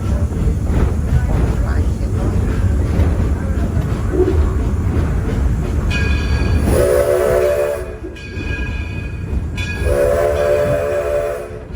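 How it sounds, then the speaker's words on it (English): A diesel locomotive at Greenfield Village rumbles along steadily pulling a train, with two long two-tone horn blasts near the end; voices murmur faintly beneath the engine noise. "The diesel is pulling our second train today."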